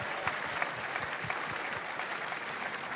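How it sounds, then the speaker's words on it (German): Studio audience applauding steadily at a live stage show, a dense wash of clapping that holds at an even level for the whole stretch, with no talking over it. "da geben wir mal einen Riesenapplaus"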